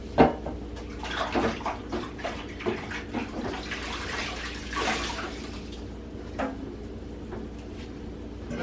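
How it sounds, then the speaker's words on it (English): Hands being washed under running tap water in a kitchen, a close splashing flow with uneven spatters and small knocks, no talk. "let me wash my hands"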